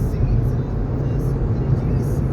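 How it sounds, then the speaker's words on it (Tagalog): Steady broadband rumble of many cars moving along a road on a Sunday morning in the USA, heard from inside a vehicle heading to a church in Fremont. The wash of traffic is continuous and fairly loud, with no clear talk over it. "Ayan, ang dami ring sasakyan."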